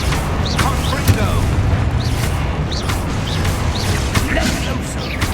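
Confringo fire spells cast repeatedly in the video game Hogwarts Legacy, giving several booming blasts and crackling impacts over busy game sounds and shouted voices.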